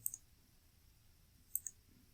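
A computer mouse gives two quick double-clicks, close and crisp, with a pause of about a second and a half between the pairs in an otherwise quiet room.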